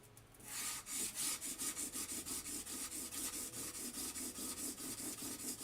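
A Stanley No. 5 hand plane blade is rubbed back and forth on a sharpening stone to raise a burr, producing steady rhythmic gritty scraping strokes, about four per second, close and loud with no talking.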